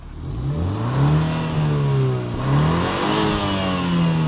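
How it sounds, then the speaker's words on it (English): A 2022 BMW X3 xDrive30i engine revs up and down twice, the pitch climbing, dipping briefly, then rising again, loud and close with no talking. "with the engine on, let's go ahead and rev"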